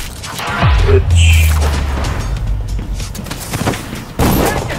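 Gunfire in the video game Dishonored 2: a sharp shot followed by a booming impact and a rumbling crash, then a second hard hit near the end, with voices underneath.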